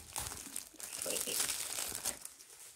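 Crinkly rustling of packaging being pulled open and handled up close, crackling in irregular bursts.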